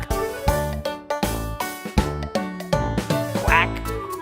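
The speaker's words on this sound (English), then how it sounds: "The ducks on the farm say quack," A duck quacks several times over a steady backing of children's farm-song music, the quacks loud and close and pitched to the melody's rhythm, with a brief rising squeak near the end.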